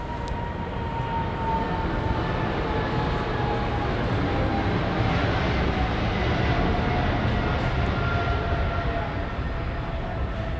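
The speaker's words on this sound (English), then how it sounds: "Oh, the plane is coming." An airplane passes overhead as a loud, steady roar with slowly drifting whining tones that holds for the whole stretch, and no one speaks.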